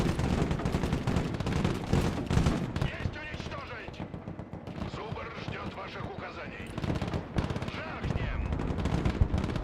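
Artillery fire mission in the real-time strategy game Broken Arrow: a continuous, loud barrage of overlapping blasts and rapid gunfire, dense and unbroken from start to finish.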